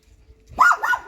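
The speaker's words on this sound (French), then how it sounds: "Ah, il y a un petit chien là-haut." A small dog gives a quick pair of high, yappy barks nearby, with a quiet background before them.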